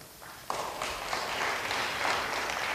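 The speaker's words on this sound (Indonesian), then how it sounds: "beri tepuk tangan bagi dia" Church congregation applause during a sermon, a soft start that builds into a steady, moderately quiet patter of many hands clapping, somewhat distant and reverberant.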